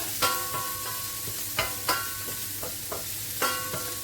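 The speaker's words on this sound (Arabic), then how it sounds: "فوالا هنا نبلي البصل تاعي مليح" Onions sizzle in a frying pan while a spoon scrapes and stirs at irregular intervals, producing distinct clatters over a continuous hiss, heard up close with no talking.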